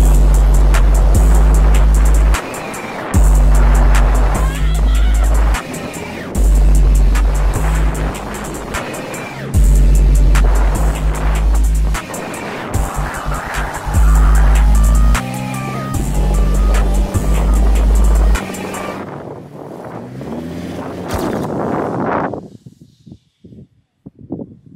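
A worn car drives through desert sand near Dubai, its engine roaring loud and close in repeated revving bursts broken by brief gaps, then fading to quieter rumbles and near silence at the end.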